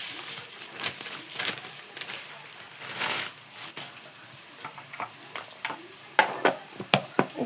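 Okra fried in a pan of tempering spices, heard as a close, uneven sizzle with scraping stirs and sharp crackling pops that grow more frequent toward the end, and no voices.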